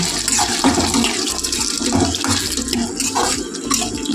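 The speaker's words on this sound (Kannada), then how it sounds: "ಆದರೆ ಆವಾಗಿನವರೆಗೆ ಇದು ಹುಣಸೆ ರಸ ಹಾಕ್ಕೊತಾ ಇದ್ದೀನಿ." Tamarind juice is poured into a pan of tomato masala frying on the stove, making a steady, fairly loud watery gush and sizzle that runs without a break throughout.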